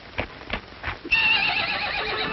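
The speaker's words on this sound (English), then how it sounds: "He's a mighty good-looking horse." Hoofbeats clop a few times, then a stallion lets out a loud, shrill whinny that carries on to the end.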